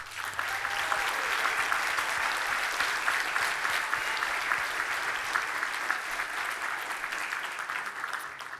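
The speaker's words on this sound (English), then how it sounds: "Could you please give them a round of applause?" A large audience at an awards ceremony applauds steadily, a dense, even wash of clapping that holds for several seconds and fades slightly at the end.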